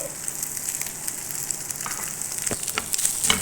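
Chicken pieces frying in a pan with cheese-chicken cooking, a steady soft sizzle with scattered crackles and pops growing slightly livelier toward the end, no talking.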